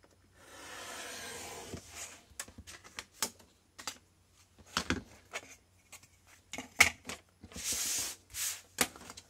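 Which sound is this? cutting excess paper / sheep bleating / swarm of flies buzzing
cutting excess paper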